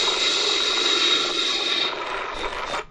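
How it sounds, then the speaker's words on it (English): Firefighting planes skim across a lake to scoop water for a nearby fire, a loud, steady aircraft engine roar that holds and then cuts off abruptly near the end. "These two planes were landing parallel to the lake to get water to extinguish a nearby fire."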